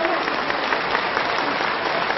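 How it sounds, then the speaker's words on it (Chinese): An audience at a gathering with guests claps in a dense, sustained burst of applause, loud and even throughout the short stretch. "来，再一次掌声鼓励好不好？"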